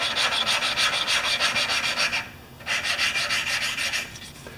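An engine valve is lapped by hand with lapping compound during a Sno-Trac 5HP snowmobile repair. The gritty rubbing and rasping repeats in quick back-and-forth strokes, close up, with a short pause midway and no talk.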